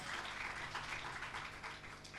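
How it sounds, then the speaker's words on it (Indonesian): Applause from a church congregation during a Sunday worship service, a steady wash of many hands clapping at a distance, fairly faint and continuous with no voices over it. "Berikan tepuk tangan yang lebih meriah"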